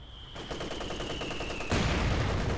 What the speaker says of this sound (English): Ooh, good mortar hit there.